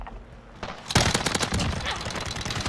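Rapid automatic gunfire from an enemy in Call of Duty: Modern Warfare, loud and sustained, a dense rattling fusillade that kicks in sharply about a second in and keeps going.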